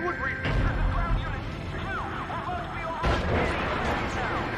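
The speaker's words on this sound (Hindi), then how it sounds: "चार सोल्जर गोली चला रहे" Gunfire rings out in bursts amid chaotic background noise and wailing tones, with a sharp loud shot near the middle.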